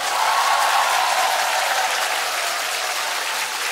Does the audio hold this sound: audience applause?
yes